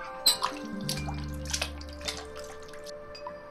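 Water pours into a bucket in a Sherlock Holmes mystery video game, a soft steady trickle with scattered drips and splashes, accompanied by sustained low tones from the game's background music.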